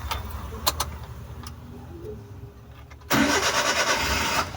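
A Suzuki Multicab engine cranks with a few sharp clicks and ticks, then catches and starts, settling into a loud, steady mid-pitched idle close by during a clutch cable adjustment.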